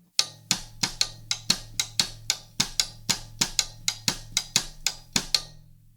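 A cascara pattern paired with rumba clave is struck on a tom rim, giving sharp, bright clicks in a continuous syncopated groove, loud and close with no voices.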